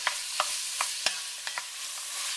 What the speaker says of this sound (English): Now I'm just going to stir this around, and then we're going to let this just cook for a little while the vegetables get tender.